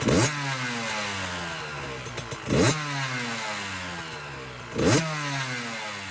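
A Yamaha YZ 65 dirt bike engine sits in neutral and is revved hard three times. Each blip rises sharply over a steady, loud, close idle, with clattering mechanical noise throughout.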